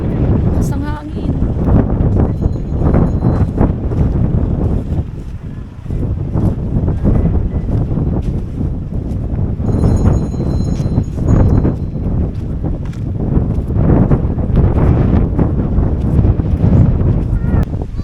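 Strong wind roars and buffets a microphone steadily at the Bangui wind farm in Ilocos Norte, with people talking under the gusts.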